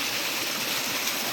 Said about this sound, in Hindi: आवाज़ आ रही है, इसका मतलब छोटा झरना होगा कहीं ना कहीं।